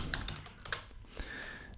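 A computer keyboard is typed on while entering an animation expression in Maya, giving a few sharp, close key clicks scattered over a faint room hiss, with no speech.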